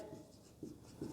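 Chalk or marker scratching out handwriting on a classroom board during a geography lesson, short faint strokes in a quiet room with no talk.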